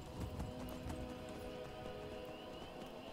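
A horse gallops and neighs in Skyrim, quick pounding hoofbeats with a whinny rising over them, fairly close and moderately loud, with no talk.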